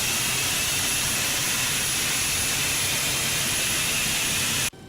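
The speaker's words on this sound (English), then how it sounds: "Sounds like the engine's already stabilised and started" MD80 with JT8D jet engines running in X-Plane 12, a loud sustained roaring whine with high tonal hiss that holds steady before cutting off abruptly near the end.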